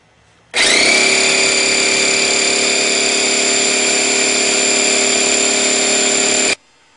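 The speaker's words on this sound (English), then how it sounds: "now we're going to inflate the tire and seat the beads" An inflator pumping air into a motorcycle tire on a BMW F650GS to seat the beads, a loud steady mechanical whine and hum that starts abruptly, runs continuously for about six seconds, then cuts off.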